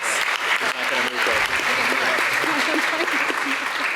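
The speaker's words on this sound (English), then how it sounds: "let's give a great round of applause for Auto Edit" A round of applause from an audience at the CSUN Bull Ring event, dense steady clapping filling the room throughout, with a voice speaking over it.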